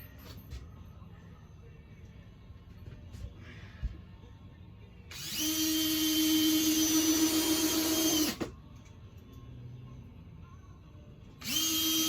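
A power drill drives a screw into the back of a wooden stair tread, one loud steady whirr lasting about three seconds followed by a short second burst, with quieter workshop handling sounds between.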